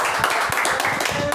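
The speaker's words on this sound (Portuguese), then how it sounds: "Quantos podem aplaudir a Cristo aqui?" A church congregation clapping for Christ during a Portuguese sermon, a brief burst of dense, close clapping with indistinct voices mixed in.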